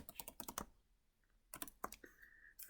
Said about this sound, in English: I'm going to go to my logical and type OR